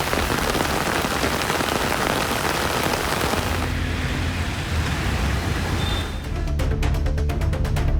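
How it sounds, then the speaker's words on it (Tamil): Heavy rain pours down in Krishnagiri, a dense, loud, steady hiss of drops on surfaces and roads, continuing without let-up. "சுமார் 1 மணி நேரத்திற்கு மேலாக கனமழை பெய்ததால் சாலைகளில் தண்ணீர் பெருக்கெடுத்து ஓடியது"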